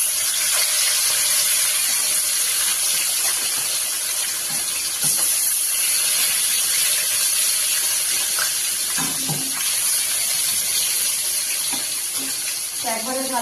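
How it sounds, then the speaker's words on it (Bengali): Rui fish frying in a pan of hot oil, giving off a loud, steady sizzling hiss that runs without a break, with a few brief clatters near the end. "এবার সুন্দরভাবে কিন্তু মাছগুলো প্রত্যেকটা ভেজে নেবো"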